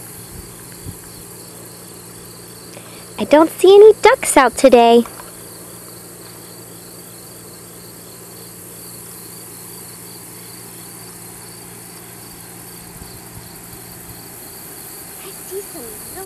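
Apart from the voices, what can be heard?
crickets chirping at a pond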